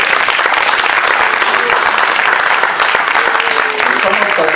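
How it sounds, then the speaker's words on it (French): A church congregation applauds loudly and steadily, dense clapping filling the room without pause for several seconds. "Est-ce qu'on peut les acclamer?"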